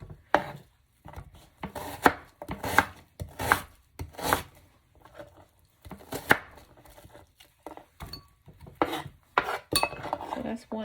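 A knife chops an onion on a cutting board for Mexican albondigas meatball soup, with sharp irregular blows in quick bursts and short pauses, close and fairly loud, with no talking.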